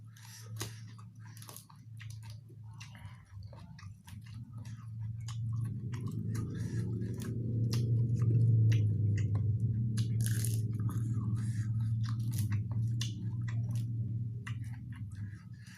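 Raw fingerroot (temu kunci) eaten as lalapan is chewed close up, a steady run of moist crunching bites that swells in the middle and continues without talk.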